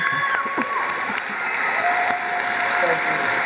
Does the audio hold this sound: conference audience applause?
yes